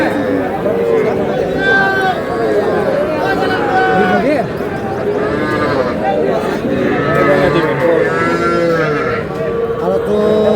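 Young bulls and heifer calves low and moo repeatedly amid a noisy livestock market crowd at Aftabganj, with people talking and calling out throughout.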